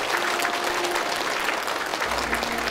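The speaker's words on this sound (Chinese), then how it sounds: "让我们有掌声吧" Steady, dense applause from wedding guests fills the hall as the bride and her father enter, a continuous crowd clapping at even loudness with little speech.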